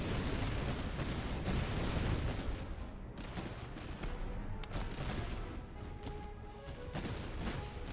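Musket volleys in a Habsburg Monarchy battle in a strategy game, dense crackling gunfire rolling continuously with sharp distinct shots popping out later over a low battlefield rumble.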